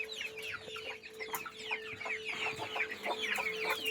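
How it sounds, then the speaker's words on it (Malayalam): A mother hen clucks steadily among her young chicks in a coop, with repeated short clucks and cheeping close by, no talking. "ഇതിൻ്റെ ഇടയിൽ ഒരു തള്ളക്കോഴി ഇങ്ങോട്ട് കയറിയാണ്"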